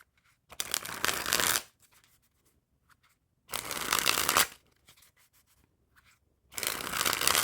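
Bicycle playing cards from a blue Victors-back deck riffle-shuffled in three separate bursts, each about a second long and close up, with quiet gaps between them and no voices.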